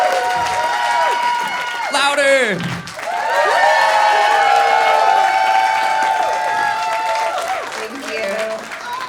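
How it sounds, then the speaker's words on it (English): Audience at a Studio40 summer dance showcase applauding and cheering loudly in a hall, a sustained burst of clapping and whoops with a voice shouting and talk over it. "can we get one more round of applause for Jenna Lee?"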